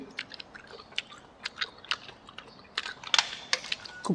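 Close, quiet crunching and wet chewing of fresh snails, with irregular crisp bites scattered over a few seconds and no talking.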